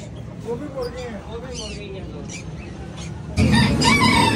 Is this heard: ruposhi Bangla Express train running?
no